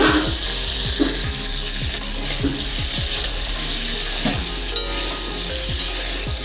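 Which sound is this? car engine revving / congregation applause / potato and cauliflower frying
potato and cauliflower frying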